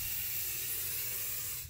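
Rust-Oleum 2-in-1 spray paint hissing from a can onto a window, one continuous close, airy spray burst lasting under two seconds before it tails off.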